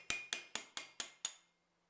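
Six evenly spaced sharp metallic taps of a tooth chisel struck against stone while refining a carving, each strike ringing briefly before the last fades into near silence.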